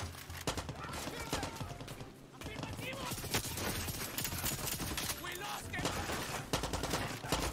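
Rapid bursts of gunfire from the video game Far Cry 6, dense overlapping shots crackling continuously and loudly through the whole stretch, with faint game sounds mixed in.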